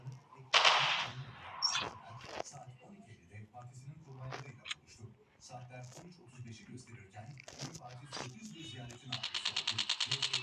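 Gunfire in the video game Call of Duty, scattered shots and a rapid automatic burst at the end, heard beneath a young player's frequent talk.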